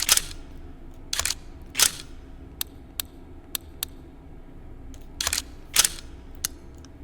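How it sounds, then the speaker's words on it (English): Mechanical clicks and clacks of AR-15 rifle handling in the VR shooter H3VR: a few sharp metallic snaps, then scattered single ticks and another pair of snaps, loud and close against a quiet hum. "these not only look better than any AR-15s that have ever gone into the game, they sound better too"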